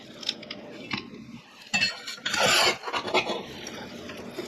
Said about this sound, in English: Give it a shake, and there's ash.